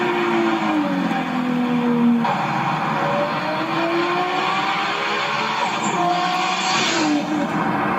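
A car drives fast past the camera with a loud, continuous engine roar whose pitch slides up and down through the gears, and tires hiss steadily along the road.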